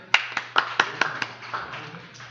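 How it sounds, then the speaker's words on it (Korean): Clapping from a lecture audience: about six sharp, evenly spaced claps in quick succession that fade into a soft murmur, with faint voices underneath. "박수 한번 쳐주세요."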